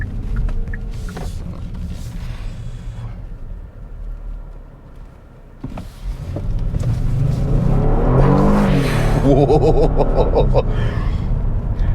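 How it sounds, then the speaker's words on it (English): A 2022 Kia Stinger GT1 accelerates hard out of a corner and slides sideways, its engine note dipping then surging into a loud sustained roar with tyre noise, heard close by. "It will legit start drifting."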